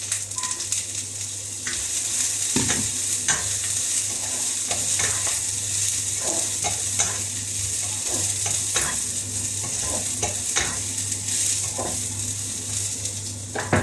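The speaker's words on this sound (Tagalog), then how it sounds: "Ito na yung oil. Yan. Tapos, ilagay ko na tong taugi." Bean sprouts stir-frying in hot oil give a steady loud sizzle throughout, with repeated scrapes and clinks of a utensil against the pan.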